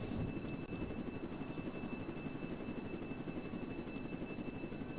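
A helicopter in the Roblox game Jailbreak gives a loud, steady rotor whir and engine rumble that holds unbroken for the whole stretch.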